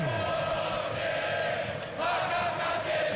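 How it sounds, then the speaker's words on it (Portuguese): Ponte Preta football supporters in a Série C stadium against Náutico, a massed chanting crowd roaring steadily, loud and sustained with a brief dip midway. "É a torcida da Ponte subindo o som."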